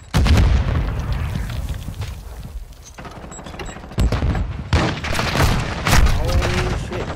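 Video game gunfire: dense, loud bursts of shots and booming impacts in rapid volleys that come in waves, with voices talking over parts of the firefight.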